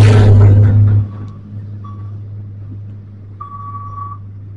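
A truck on the Sitinjau Lauik mountain road near Padang gives a few spaced electronic reversing beeps, with the last one longer, after loud engine rumble fades to a low steady hum.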